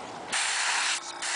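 An airbrush hisses out paint onto a custom My Little Pony figure in short bursts, a close, steady airy spray that pauses briefly and resumes.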